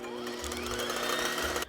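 An electric mixer with two wire whisks beating egg whites, a steady rapid whirring buzz for under two seconds that cuts off abruptly, close and fairly quiet.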